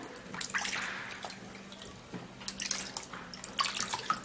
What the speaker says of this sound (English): It's actually very necessary and very important for you to wash your cucumber.